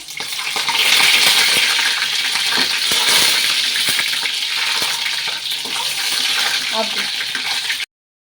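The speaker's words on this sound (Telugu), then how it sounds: "ఇదిగోండి, ఆయిల్లో వేగిపోయినాయి అనమాట." Boiled eggs frying in hot oil, making a dense, continuous sizzle with light popping that stops abruptly near the end.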